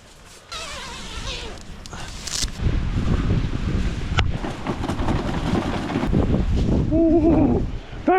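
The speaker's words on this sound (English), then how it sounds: "That wind's picking up." Strong blizzard wind buffeting outside a hot tent, a loud, continuous roar and flapping that builds after a quiet start, with a person's voice and vocal sounds breaking through near the end.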